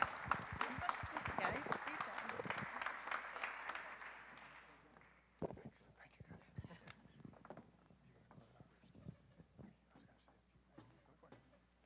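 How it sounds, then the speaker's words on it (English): Applause for a panel of speakers at an innovation day event, a burst of audience clapping that fades over about four seconds, followed by scattered light claps and shuffling in the room. "One round of applause for our panelists."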